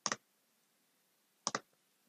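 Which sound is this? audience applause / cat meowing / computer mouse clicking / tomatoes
computer mouse clicking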